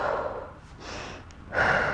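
Breathy exhales during a Pilates core workout, two audible pushes of air with a quieter breath between, close and moderately loud.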